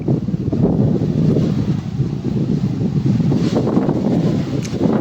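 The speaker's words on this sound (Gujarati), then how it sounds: "પવન આવે છે" Strong sea wind near the coast buffets the microphone with a constant, loud rumbling roar, gusting unevenly the whole time.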